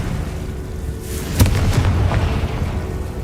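Confringo blasting curse from the Hogwarts Legacy video game: one sharp explosive blast over a steady rumbling game background, then a brief booming tail.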